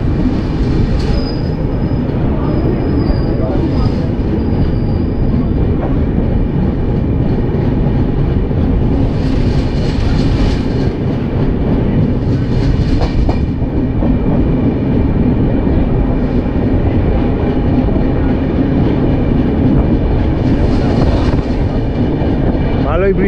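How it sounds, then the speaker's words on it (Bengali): Poorva Express on the New Delhi–Howrah line pulling away from Aligarh, heard from inside a sleeper coach as a steady loud rumble with wheel squeal and rail clatter, and people talking now and then. "আলিগড় থেকে ছেড়ে দিয়েছে ট্রেন"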